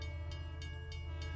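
A superfast train used as an audio drama effect rumbles steadily with a deep, continuous low roar. Evenly spaced rhythmic clacks of the wheels recur about every third of a second, close and alone with no voices.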